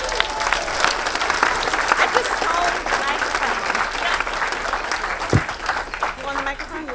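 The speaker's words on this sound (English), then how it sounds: "Round of applause." Audience at a game-design conference talk applauding, dense steady clapping from a sizable crowd with a voice briefly heard beneath it.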